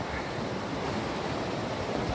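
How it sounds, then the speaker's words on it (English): The Elk River flows beside the Appalachian Trail, a steady, even rush of moving water with no breaks, heard close and fairly loud, with no voices over it. "I think he said this is the Elk River"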